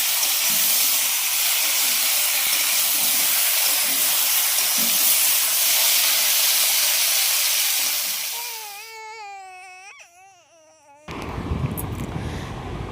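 Mixed vegetables and tomatoes frying together in a pan make a steady broad hiss for about eight seconds, then fade out. A wavering, cry-like tonal wail and a burst of rougher noise follow.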